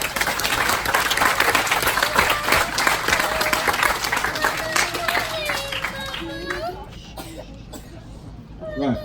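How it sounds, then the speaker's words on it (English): Wedding guests breaking into loud, sustained applause in a reception hall, dense clapping mixed with coughs and scattered voices, fading toward the end as talk resumes. "give yourselves a round of applause"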